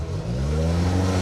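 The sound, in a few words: Ford Escort rally car twin cam engine revving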